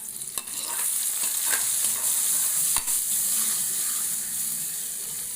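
Hot sizzling tempering with asafoetida poured into sambar, giving a continuous close hiss and crackle with a couple of sharp utensil taps, no voices.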